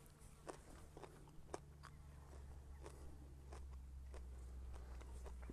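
Crushed raw nettle leaves are chewed close by in a UK woodland, soft irregular crunching bites over a low steady outdoor hum, faint and with no talking.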